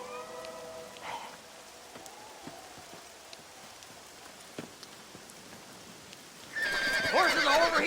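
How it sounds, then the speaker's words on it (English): Faint horse whinnies and light hoof clops sit over a soft rainy background in the video game Red Dead Redemption, then a louder, high neigh bursts in near the end. "Horses are over here!"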